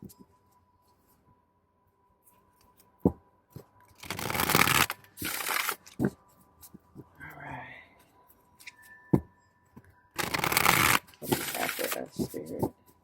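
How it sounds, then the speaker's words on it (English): A thin, flexible oracle card deck is shuffled in two distinct riffling bursts, close and crisp, separated by soft handling clicks and a brief quiet spoken voice. "they are flexible, as you see, and very easy to shuffle"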